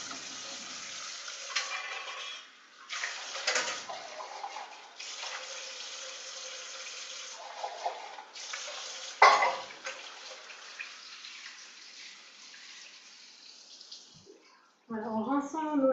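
Canned lentils being rinsed in a colander under a running tap, a steady faucet stream splashing through the strainer with shifting gushes and pauses, fading near the end, and faint voices.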